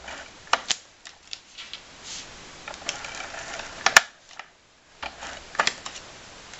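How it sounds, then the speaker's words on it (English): An ATG adhesive tape gun laying glue onto pattern paper for a handmade card, heard as sharp close clicks and short rattling, ratcheting bursts separated by pauses, with no one talking. "I'm using my ATG gun."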